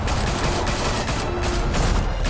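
Sustained heavy gunfire from the Batman Telltale video game, a dense, loud, unbroken barrage of shots with no talking.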